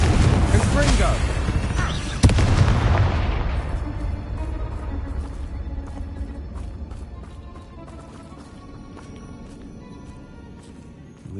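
Confringo explosive spells from Hogwarts Legacy go off in a heavy booming blast with a sharp crack in the middle, then the roar decays into a long fading rumble and scattered crackles, while a voice calls out over it.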